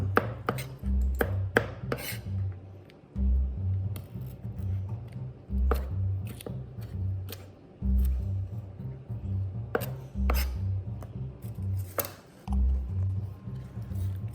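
A knife chopping peppers on a cutting board at close range, in quick rhythmic runs of sharp knocks separated by short pauses, with no talking.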